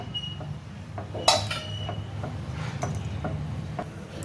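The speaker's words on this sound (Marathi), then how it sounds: "सतत हलवत राहायचं आहे आपल्याला सतत हलवत राहायचं आहे" Thickening orange halwa stirred in a pan, giving soft repeated scrapes and light metallic clinks of the spoon against the pan, with one sharper knock, over a steady low background hum.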